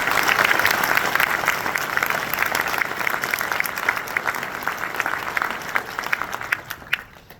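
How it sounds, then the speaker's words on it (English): A big round of applause from a conference audience at BCPC 2023 for working people, dense and loud steady clapping that fills the room, fading slightly at the end. "Give them a big round of applause"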